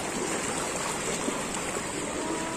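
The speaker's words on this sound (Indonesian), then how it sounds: "ini kita nyebrang sungai ya, yang kedua kali" A steady, close rush of river water fills the air as someone wades across the Sungai Bangek river at Lubuk Minturun, continuous and unbroken, with no voices.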